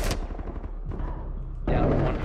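Gunfire in a Rainbow Six Siege match: sharp broadband bursts at the start, then a louder sustained volley of shots near the end, mixed with game sounds and background chatter.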